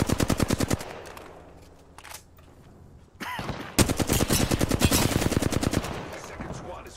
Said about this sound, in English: Second squad is firing at us.